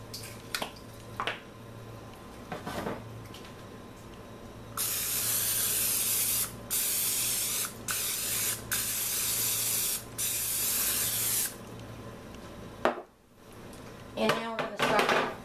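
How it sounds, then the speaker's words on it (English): Non-stick cooking spray hisses onto a big baking sheet in a long burst broken into several spurts, close and loud, with a few clinks and handling noises before and after. "I'm going to spray it real good with the non-stick spray"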